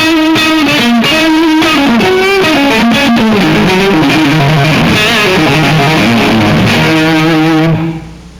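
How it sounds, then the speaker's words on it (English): Electric guitar heavily distorted through a distortion pedal plays a continuous melodic line with sustained, gritty notes, loud and close, before fading out at the end. "Then I'm running into a distortion box, which is giving me an extra bit of gain."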